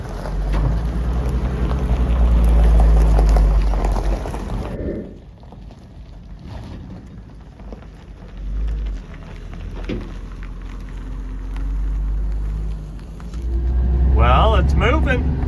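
A 1971 Ford F250 pickup that had sat for 22 years rumbles along on a drive, with a loud low engine drone and wind buffeting that eases, then swells again, while people talk.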